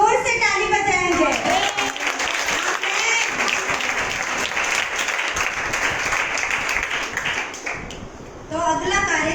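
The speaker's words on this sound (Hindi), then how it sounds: "तो परमेश्वर की महिमा के लिए हम जोर से ताली बजाएंगे।" Children at a youth camp clap loudly together in a sustained burst, with voices at the start and a brief lull before the clapping picks up again near the end.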